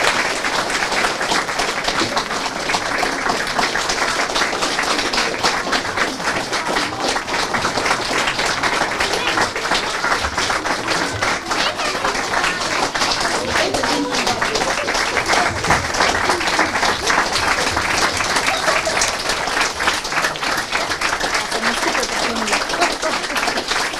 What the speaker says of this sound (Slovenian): In damo še en aplavz